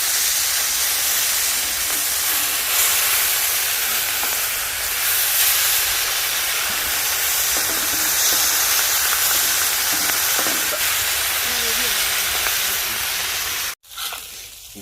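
A whole red pomfret fish frying on a tawa in a village kitchen gives off a constant, loud, hissing sizzle that runs unbroken for many seconds, then drops out briefly near the end.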